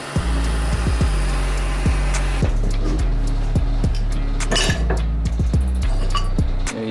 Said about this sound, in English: So hopefully the tusk bearing puller that we have is gonna do its job.